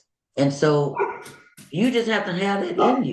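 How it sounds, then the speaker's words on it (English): A couple of pet dogs bark and roughhouse nearby, with short yips and barks mixed in under steady close talking. "if you hear some barking or some rough house"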